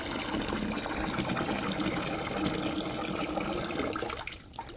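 Hot water pours steadily into a 3-gallon water bucket in a horse barn during a blizzard, a loud continuous gush that runs for several seconds before trailing off near the end.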